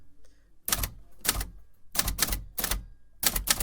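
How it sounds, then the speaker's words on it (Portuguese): An old mechanical typewriter clacks in uneven bursts of keystrokes, loud and close, with short pauses between the runs of typing and no voices. "Exemplo disso é a máquina de escrever."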